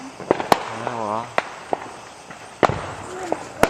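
Fireworks go off outdoors with puppies nearby, sharp pops and bangs scattered irregularly, some close and loud, others fainter, while a puppy whines in the middle.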